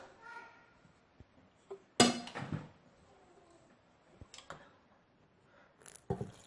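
Glass jars sealed with green beans set down one by one onto a cloth lining a pressure cooker: a few sharp clinks and knocks spread out with quiet gaps, fairly soft overall.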